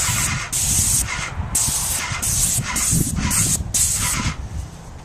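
A spray gun hisses in repeated bursts of a second or so each, with brief pauses between passes, close and steady, spraying stain onto a concrete fence panel.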